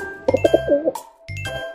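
A pigeon gives a short run of soft cooing notes, close and clear, with a faint tinkling and low background tones between the calls.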